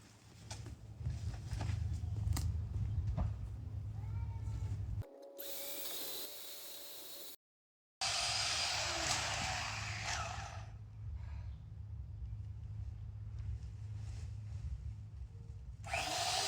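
Small-bladed power saw cutting wood during outdoor chores, buzzing loudly in bursts with brief pauses and a cut-off gap, close by with no speech.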